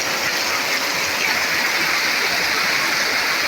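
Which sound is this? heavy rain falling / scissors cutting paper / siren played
heavy rain falling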